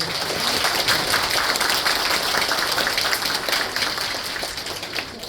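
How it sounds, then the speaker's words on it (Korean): Applause from an audience at a Korean lecture on AI for game development: dense, even clapping that carries on steadily, then starts to thin toward the end. "큰 박수 부탁드립니다"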